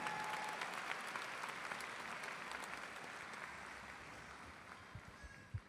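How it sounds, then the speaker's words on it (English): Sustained applause from a graduation audience at a school ceremony, steady dense clapping that fills the space and stays level before tapering slightly near the end. "Let's give another round of applause for Niti Santosh Swami"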